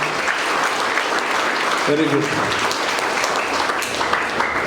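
A church audience applauds during a confirmation ceremony at St. Joseph's church, a dense steady wash of clapping that holds from start to finish while someone speaks briefly over it.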